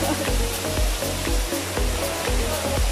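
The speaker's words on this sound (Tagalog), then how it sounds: "we're out here now in the waterfall" Ng Tung Chai waterfall on Tai Mo Shan, Hong Kong, gives a loud, steady broadband roar of falling water heard up close, continuous and unbroken throughout.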